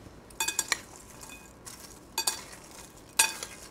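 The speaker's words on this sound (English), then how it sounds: "Go ahead and mix your salad." Nectarine panzanella salad being tossed with crispy bread cubes in a bowl, giving a few separate bursts of crackly scraping and clinking a second or so apart, fairly close, with no talking.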